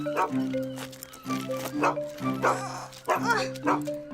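A cartoon dog barks in a repeated series of short, bright, tonal yips and bow-wows with a sustained musical backing underneath, each bark close and clear.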